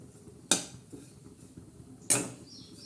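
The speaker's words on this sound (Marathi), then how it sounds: "साधारण खोबरं असं भाजून घ्या" Grated coconut being dry-roasted in a pan on the stove, with two sharp metal clinks of a spatula against the pan about a second and a half apart over faint, quiet kitchen background.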